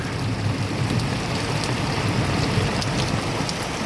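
Steady rain pours on a rainy afternoon, a dense continuous hiss of drops striking surfaces close by, loud and unbroken with no voices.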